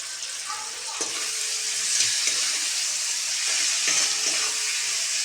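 Onions frying in a pan with ginger and a pinch of sugar, a steady close sizzle with occasional stirring clicks, no voice over it.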